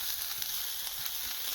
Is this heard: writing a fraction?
no